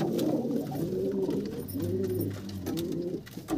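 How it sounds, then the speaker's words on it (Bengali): An old desi domestic pigeon coos close by, giving several low, rolling coos in a repeating rhythm over a noisy background. "এটা বাড়ির পুরনো পায়রা।"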